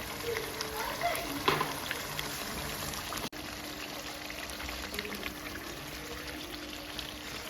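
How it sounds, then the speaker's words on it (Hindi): Milk pours into a simmering chicken makhni handi gravy in a pot, a short close liquid splash and trickle early on that settles into a faint bubbling simmer. "इसमें हम दूध भी डालेंगे, थोड़ा सा ही डलेगा, 1/2 कप के करीब"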